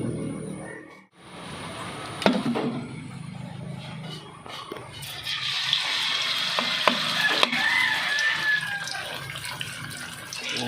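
A ground meat omelette, tortang giniling, fries in a pan. A soft steady sizzle builds over several seconds with a few clicks and stirring scrapes, close and moderately quiet, with no talking.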